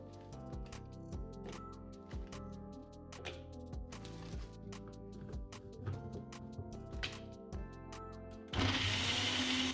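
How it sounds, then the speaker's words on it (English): A blender whirs through Greek yogurt, milk, frozen banana and blueberries in repeated short pulses with thumping stops between them, then runs in one continuous louder whirring burst at the end. "I'm making a quick smoothie from Greek yogurt and milk with a little of yesterday's frozen banana plus a few blueberries"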